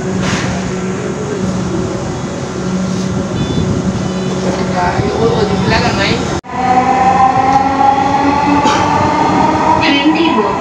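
A Dhaka Metro Rail train runs with a loud, steady rumble and whine inside the carriage, broken by a brief dip before the motor noise returns with rising tones.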